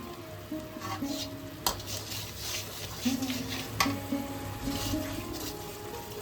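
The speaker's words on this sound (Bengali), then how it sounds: "খুব ভালোভাবে মশলাটা আমাদের কষানো হয়ে গেছে।" Spice masala with sugar and salt frying in a pan, heard as a low continuous sizzle with stirring scrapes and a few sharp knocks of the spoon against the pan.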